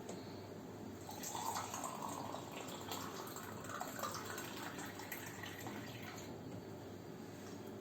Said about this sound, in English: First, let's turn on the water filter.